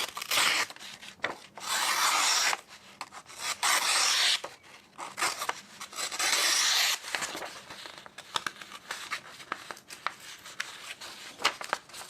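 A Civivi Qubit folding knife slices material in an out-of-the-box sharpness test, giving repeated rough rasping strokes that come loud and close in uneven bursts with brief pauses between them.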